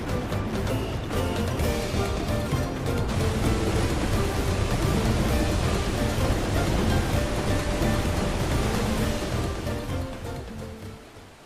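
Waterfalls in Final Fantasy XIV rush as a loud, dense, steady roar that fills the whole stretch and eases slightly near the end, with no voices.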